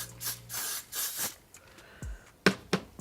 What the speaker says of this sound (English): I'm actually gonna spray some of this on here,